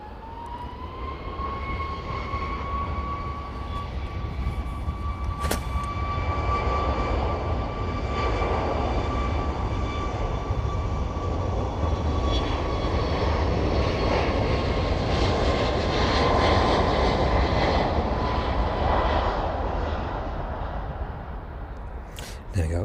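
A Jet2 airliner takes off from East Midlands Airport, bound for Rhodes, its engines roaring loud and steady with a rising whine for over twenty seconds, swelling toward the end before easing off.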